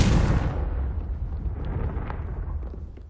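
A Confringo fire spell blast in Hogwarts Legacy on PS5 bursts loudly at the start with a broad explosive crack, then decays into a rumbling, crackling fiery tail with scattered small pops.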